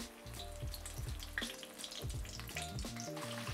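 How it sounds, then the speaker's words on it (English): A mozzarella sandwich gently lowered into neutral oil at 325°F fries with a steady close sizzle and bubbling crackle, running continuously with no talk. "So just gently rest it in the oil, just like that."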